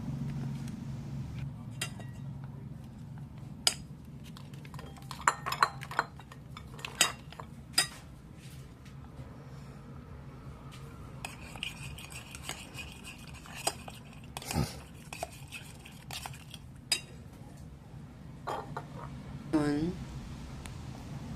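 Sisig tofu being stirred in a pan, with sporadic utensil clinks and scrapes against the metal under a low background hum, while a voice talks over it.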